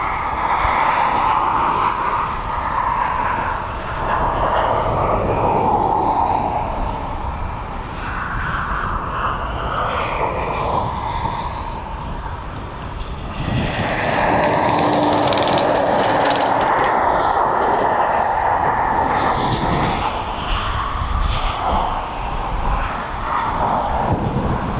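A Ryanair jet airliner at East Midlands Airport fills the air with a loud, shifting roar and rumble that swells and fades, with mechanical rattles mixed in.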